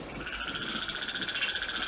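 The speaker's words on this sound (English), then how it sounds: "A tape recording of croaking frogs was switched on to cover any accidental sound that might scare the nesting" A tape recording of frogs croaking at night plays as a steady, dense pulsing chorus that stays loud and continuous, with no voices over it.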